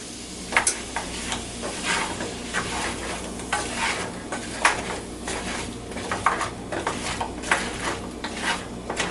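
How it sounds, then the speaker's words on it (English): Stewed apples being stirred in a pan, a soft scraping and sizzling texture with irregular spoon strokes that repeat over a low simmering hiss, close and moderately quiet with no talking. "Give this another quick stir."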